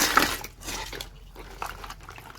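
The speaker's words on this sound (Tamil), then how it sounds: "தண்ணியில் எல்லா நண்டையும் போட்டுடணும்." Crabs dropped and washed in a vessel of water, a close, soft splashing and sloshing with light clinks of shell against the pot, short and steady, with no talking.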